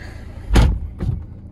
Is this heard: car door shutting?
yes